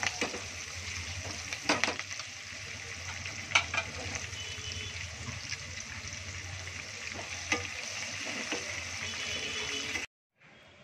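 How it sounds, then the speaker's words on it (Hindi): Green chilies and curry leaves fry in hot oil while being stirred for corn chivda, a steady close sizzle with scraping stir clicks throughout, then stopping abruptly near the end. "अब इसमें हरी मिर्ची और कड़ी पत्ते को फ्राई करेंगे।"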